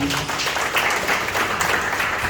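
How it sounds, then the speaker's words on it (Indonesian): A church congregation claps together at a Sunday worship service, a dense, steady wash of hand claps filling the room for a couple of seconds without talk. "Tepuk tangan bagi nama Tuhan"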